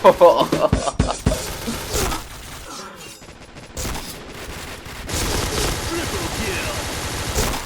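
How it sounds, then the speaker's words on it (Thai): Wild, sprayed gunfire from a weak gun in the shooter Point Blank: loud, rapid bursts with shattering impacts, a brief lull, then sustained automatic fire toward the end, with a voice talking over it. "ยิงมั่วไปเลยครับ"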